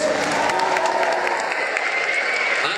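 A crowd at the Insomnia 57 gaming event Q&A claps and applauds loudly and continuously, dense hand-clapping filling the room, with a few cheers mixed in.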